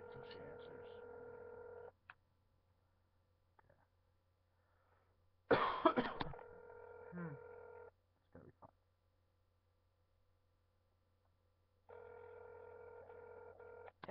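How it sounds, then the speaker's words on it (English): Dial tones and ringback from a telephone call placed on speakerphone to a friend's house, a steady buzzing tone in repeated bursts with a louder clatter partway through and silence between rings. "I'm calling my friend at her house, putting it on speaker"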